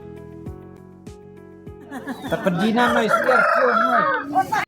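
A Syiar Markasa indigenous chicken from the hills of Meghalaya crows loudly and close, a long strained cock-a-doodle-doo rising in the second half after a few faint clucks.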